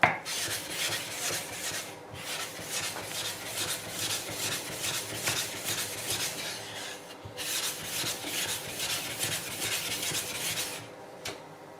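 A 1000-grit sharpening stone rubs back and forth on a lapping plate, giving a continuous, close, gritty rasping scrape broken by two short pauses.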